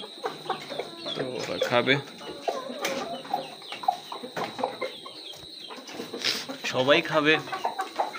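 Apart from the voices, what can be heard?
aseel roosters and chickens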